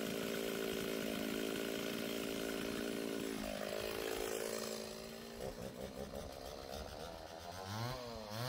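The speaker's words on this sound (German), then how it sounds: "hier habe ich für die Kettensäge einen Rindenhobel" A chainsaw fitted with a bark-planer attachment runs steadily and loudly, its pitch rising and dipping as it revs, then settling into a rougher, choppier idle near the end.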